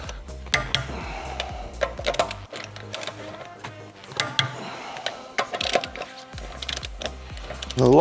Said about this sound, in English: Torque wrench for the wheel is to be set to 120 Newton meters.